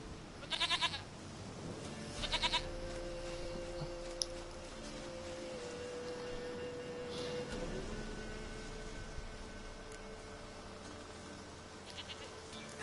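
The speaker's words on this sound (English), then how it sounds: "Goat of mine, dearest, sweetest goat." A goat in the video game The Witcher 3: Wild Hunt gives two short, fairly close bleats near the start, followed by quiet ambient outdoor background with no talking.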